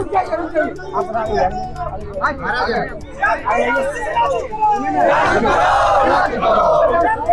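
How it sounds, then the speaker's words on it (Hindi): A crowd of student protesters against JPSC in Ranchi chants slogans in loud rhythmic unison, with overlapping shouts and chatter swelling into a stronger collective roar toward the end. "यहाँ छात्रों का भीड़ जो है वो आप देख सकते हैं किस तरह से नारेबाजी की जा रही है"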